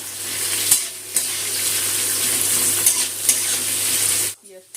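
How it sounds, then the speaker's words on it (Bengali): Sliced onions with a pinch of salt frying in hot oil for roasted onion chicken give a loud, steady sizzle with occasional stirring scrapes. The sound cuts off sharply just before the end. "পেঁয়াজটা লাল করে ভেজে নেব।"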